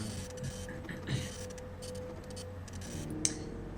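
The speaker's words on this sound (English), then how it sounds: "nice classic printer sounds" A printer in the video game Freddy Fazbear's Pizzeria Simulator runs with rhythmic mechanical ticking and whirring, small clicks spread throughout and a sharp tick near the end.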